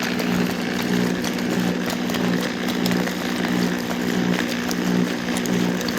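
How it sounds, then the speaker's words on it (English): A gold rod mill runs loud and steady, steel rods tumbling and sand grinding against the barrel as one dense continuous roar with a low mechanical hum and faint recurring knocks, no talking. "I can hear the rods tumbling. I can hear the sands actually grinding, getting crushed against the barrel."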